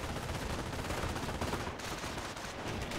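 A machine gun rattles in continuous rapid bursts during Company of Heroes, a World War II strategy video game. The fire is loud and dense, with no talking.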